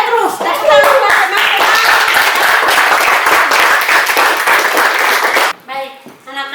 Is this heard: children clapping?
yes